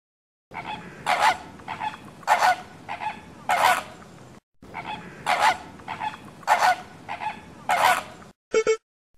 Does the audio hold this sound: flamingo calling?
yes